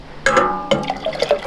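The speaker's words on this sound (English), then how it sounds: "go ahead and dip in some more water and swish it around" Water swished around inside a dye pot holding alum mordant for dyeing wool yarn, giving a few close sloshing, bubbling bursts that come in short uneven surges.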